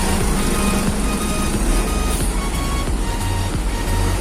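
A Gunung Mulia bus pulls into Jumapolo bus terminal, a loud continuous diesel engine rumble close by, with busy terminal noise and repeated beeping in the background.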